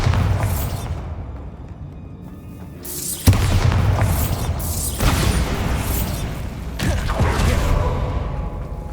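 Bombarda spell blasts go off in the video game Hogwarts Legacy, three loud bursts spaced a few seconds apart, each a sharp crack followed by a crumbling, creaking boom that decays before the next.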